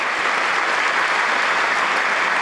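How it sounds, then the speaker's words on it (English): Members of Congress applauding a speech make a dense, sustained ovation of many hands clapping, steady and full before cutting off abruptly at the end. "And the enemies of the people in Congress just sit there and applaud."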